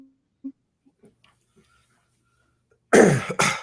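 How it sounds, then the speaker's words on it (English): After near silence with a few faint ticks, someone clears their throat twice in quick, loud bursts. "if you guys hear me clear my throat a little bit all the time"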